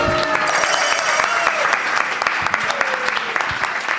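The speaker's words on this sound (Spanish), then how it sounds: "Un aplauso para un valiente, por favor." Studio audience applauding a game-show contestant, steady dense clapping throughout, loud and close, with cheering voices mixed in.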